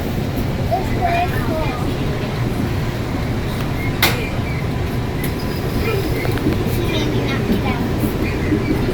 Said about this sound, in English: Are we on the train?